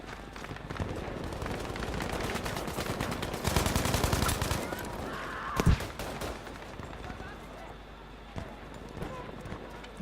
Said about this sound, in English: That was a grenade that someone over there just threw at me.